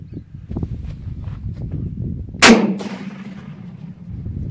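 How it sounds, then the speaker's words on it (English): A single close, loud 12 gauge shotgun blast detonates a sensitive Tannerite target, a sharp booming crack with a short rolling tail, preceded by quiet rustling and shuffling outdoors. "We're gonna shoot it with a 12 gauge."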